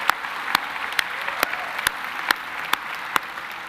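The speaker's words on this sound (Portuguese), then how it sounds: "pode aplaudir Jesus, Ele é digno" A church congregation applauds during a sermon, a steady wash of clapping overlaid with a regular rhythm of sharp, evenly spaced claps roughly twice per second, held at a moderate level throughout.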